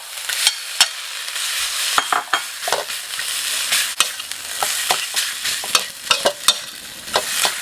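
Rice being stir-fried with shrimp paste chili sauce, fried mackerel added, a hissing sizzle broken by frequent sharp spatula scrapes and taps against the pan, close and loud with no voices.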